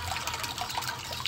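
Water falling from the outflow of a pond or aquarium pump, making a steady close splashing trickle with no break.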